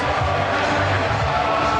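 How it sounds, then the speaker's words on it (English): A football stadium crowd roars after Jesse Lingard's goal for Manchester United against Real Madrid, a dense, loud, continuous wall of cheering and shouting that holds steady throughout. "Oh, fantastic for the crowd. They've erupted."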